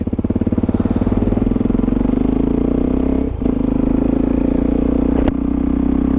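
Suzuki DRZ400SM motorcycle heard riding past, a steady loud single-cylinder engine drone with a brief dip and a sharp click partway through, no talking over it.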